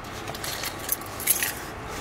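Soft metallic jingling of keys, with a couple of small clinks, quiet and close.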